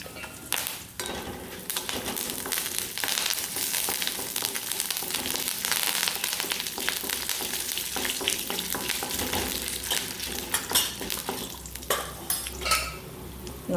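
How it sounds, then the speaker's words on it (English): Chilies and curry leaves roast in a pan for sambar, a steady close sizzle with frequent spoon scrapes and stirring clatter throughout, and no talk. "To this I will add the curry leaves and roast it."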